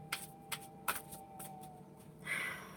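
Fairy tarot cards are shuffled by hand close to the listener in several quick riffling bursts separated by short pauses, ending in a longer soft rustle, with no talking over them.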